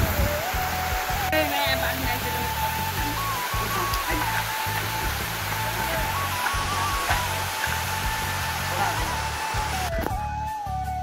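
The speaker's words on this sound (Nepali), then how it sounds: "पानी पर्यो यार ठुलै पानी ठुलै पऱ्यो" Heavy rain pours down during a road journey in Nepal, making a dense, continuous, loud hiss throughout with a low rumble beneath it.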